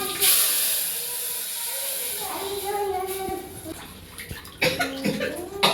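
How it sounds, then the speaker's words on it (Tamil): Water pours and splashes into a pot of rasam with a steady hiss for several seconds, joined near the end by clattering and a few sharp sizzling bursts. "தண்ணி ஊற்றி"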